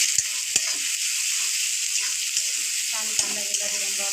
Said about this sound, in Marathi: छान कांदा गुलाबी रंगावर परतून घ्यायचा।